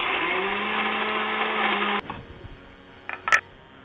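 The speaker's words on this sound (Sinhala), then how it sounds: "දැන් බ්ලෙන්ඩර් කරගන්න ඕන හිඳ මේ විදිහට එකතු කරගෙන අපිට පුළුවන් බ්ලෙන්ඩර් කරගැනීම සිද්ධ කරන්න" A blender whirs loudly, blending cinnamon leaves with water, then cuts off abruptly halfway through, followed by a few sharp clicks and knocks of the jar.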